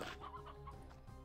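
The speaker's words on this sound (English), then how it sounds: "there's a lot of chickens" Chickens in a video game cluck in a short, quiet flurry of rapid clucks, heard alone without talk.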